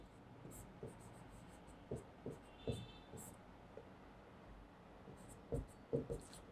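Pen writing by hand on paper, quiet, close scratching strokes in short irregular bursts with pauses between.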